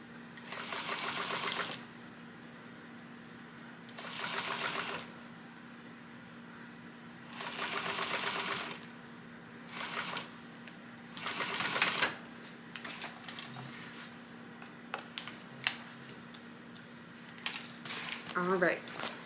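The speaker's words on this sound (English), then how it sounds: "now we're going to top stitch. All the way down at the 1/8 of an inch seam allowance" A sewing machine top stitches a crossbody bag at an eighth-inch seam allowance, whirring in several close, steady bursts with quiet gaps, followed by lighter handling clicks and rustling.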